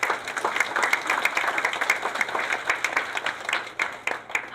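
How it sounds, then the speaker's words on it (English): A crowd applauds steadily, dense clapping from many hands filling the room and tapering slightly toward the end. "So please, a round of applause for yourselves."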